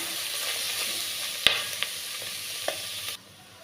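Goat tripe (boti) sizzles in oil as it is stirred, a bright hiss with a few sharp spatula knocks against the pan before the sound drops off abruptly.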